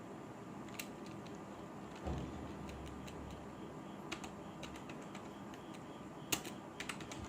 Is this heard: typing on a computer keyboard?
yes